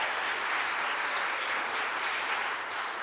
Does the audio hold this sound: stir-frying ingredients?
no